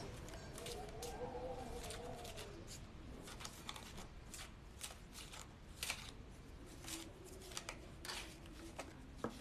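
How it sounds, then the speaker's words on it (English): Tarot cards are shuffled quietly and close, a run of soft riffling flutters and crisp snaps repeating irregularly over a faint background hum. "And I'm just sitting here shuffling these for you guys."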